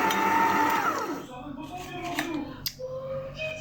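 An electric mixer whirs steadily while blending homemade cookie dough, its motor loud and close for about a second before settling into a quieter churning hum, with clinks and scraping of the bowl mixed in.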